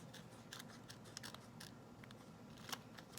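Scissors snip through craft material for a rainbow sequin shaker tag, several short crisp cuts spaced irregularly, close and fairly quiet, with no talking.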